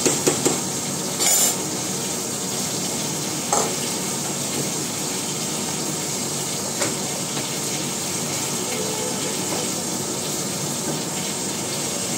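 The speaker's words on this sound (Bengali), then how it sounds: "মাছ ভাজা আমার হয়ে গেছে।" Fish fries in a pan in a home kitchen, a continuous hiss of sizzling oil with occasional scrapes and clinks of a utensil against the pan, steady and close.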